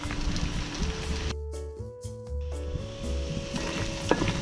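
Pork sizzles and fries in a pot, a dense crackling hiss that carries on steadily, with faint tones from a cooking show underneath and no speech.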